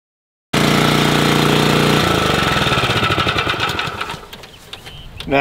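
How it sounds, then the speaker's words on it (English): A lawn mower set low at about an inch and a half to bag fescue grass starts abruptly and runs loud and close with a rapid rhythmic engine chatter, then fades away toward the end. "Now I've got my mower set down to about an inch and a half for this particular grass."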